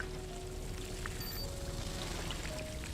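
In Dune: Awakening, water pours steadily into a tank as a soft, continuous rushing stream that stays fairly quiet and even throughout.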